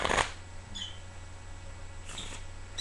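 A deck of playing cards gets shuffled during a close-up card trick: a few quick, soft riffling bursts separated by quiet stretches over a low background hum, with no speech.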